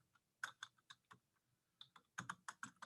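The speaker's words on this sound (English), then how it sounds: "So right here at the top, I'm typing in template tab" Typing on a computer keyboard, with bursts of distinct key clicks separated by short pauses, close and fairly quiet, with no talking.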